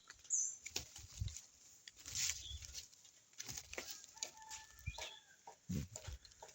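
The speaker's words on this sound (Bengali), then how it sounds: "পাখির ডাক কিচির মিচির একটু শোনা যাইতেছে এখন" Birds call faintly around a rural village house on a foggy morning after rain, with scattered chirps and what sound like distant fowl clucks over a quiet background.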